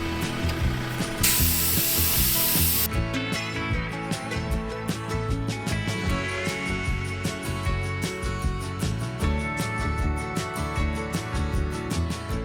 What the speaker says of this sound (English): so dropping the tyres right now.